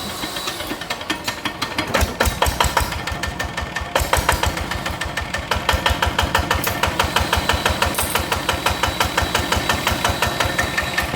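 A Thai motorcycle with a fault that pushes engine oil into the radiator is started and settles into a loud, steady, rapidly pulsing idle with a knocking, uneven beat up close, with no talk over it.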